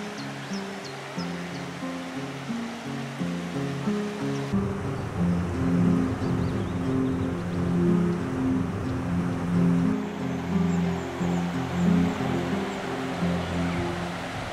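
The River Wye rushes steadily through Chee Dale, a steep-sided limestone gorge in the Peak District, as a continuous broadband water noise heard near a footbridge, with no speech.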